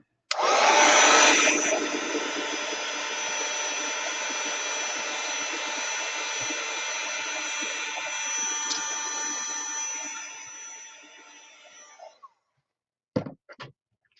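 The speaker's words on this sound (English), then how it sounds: "Heat tool." A heat tool blasts hot air over a watercolor painting for about twelve seconds, a steady, loud whooshing roar that starts strongest, runs evenly, then shuts off, followed by a few small clicks and taps.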